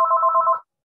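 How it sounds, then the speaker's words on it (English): A telephone bell rings in one short electronic trill lasting just over half a second, loud and close, then stops into silence. "that's a phone ringing"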